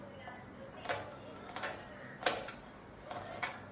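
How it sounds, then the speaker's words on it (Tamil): Knife chopping chillies on a board for homemade biryani, four sharp separate chops spaced about half a second to a second apart, close and fairly quiet with no talking. "அடுத்து பார்த்தீங்கன்னா சில்லி கட் பண்ணுறோம்."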